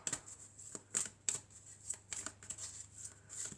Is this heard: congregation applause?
no